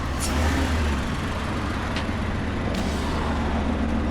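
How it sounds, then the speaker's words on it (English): A Ford F-150 XLT V8 fitted with a Whipple supercharger and stock exhaust idles with a steady low rumble, a continuous engine drone that stays even throughout, with a couple of faint brief clicks on top and no talking. "Let's hear the exhaust note."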